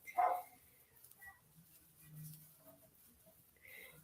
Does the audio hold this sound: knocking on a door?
no